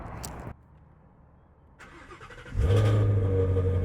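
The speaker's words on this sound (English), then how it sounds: "I guess we will have to start it up and figure it out for ourselves" A Ford Shelby GT350 engine starts: a quiet pause, a brief starter crank, then the motor catches with a loud, sudden roar that settles into a strong, steady rumbling idle.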